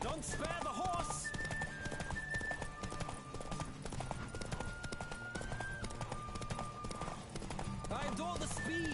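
Horse galloping hard in a race in The Witcher 3, a loud, fast, continuous drumming of hooves with a brief whinny, layered under game music and a voice calling out.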